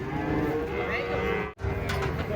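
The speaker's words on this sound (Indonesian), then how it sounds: "Sapi galak guys datang lagi." A large, aggressive cow being unloaded from a truck lets out long, loud, close moos, with a short break in the middle, amid a noisy outdoor crowd.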